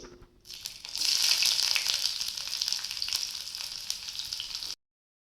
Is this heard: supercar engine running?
no